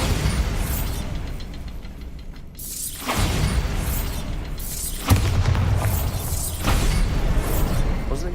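Bombarda blasting spells go off in the game Hogwarts Legacy, landing as loud booming explosions with debris crashes, a big blast near the start followed by several more in close succession.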